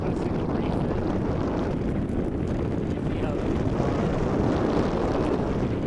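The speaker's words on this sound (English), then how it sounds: "Not horribly windy, but there's enough." Steady wind rushes and buffets against the microphone outdoors on a sailboat on a lake, a continuous low roar with slight gusting variation.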